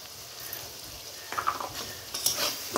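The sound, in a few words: shrimp frying in oil with cumin and chili powder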